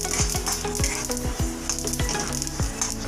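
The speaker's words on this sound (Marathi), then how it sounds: "तुम्ही बघू शकता याचे व्यवस्थित भाजत आले आणि ह्याचा पण आवाज येतोय पटपट" Black sesame seeds dry roasting in a pan, popping and crackling in quick irregular bursts with a steady low sizzle and occasional scraping stirs, close and alone without voices.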